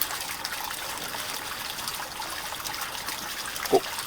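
A pressure sprayer mists RD2551 solution over a durian tree, giving a steady, even hiss that runs unbroken throughout at moderate level.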